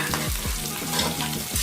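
Garlic frying on full flame for egg fried rice with chicken shashlik, a loud, dense sizzle with quick rhythmic stirring scrapes, no voices.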